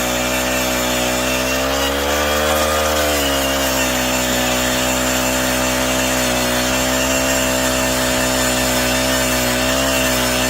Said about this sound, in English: I've never smelled a propane engine running before.